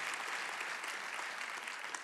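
A church congregation claps and cheers for a man just baptized, a dense, steady wash of applause with no breaks.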